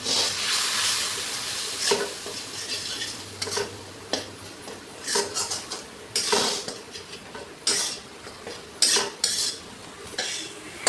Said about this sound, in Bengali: একটুখানি অল্প জল দিয়ে মশলাটা কষিয়ে নিই।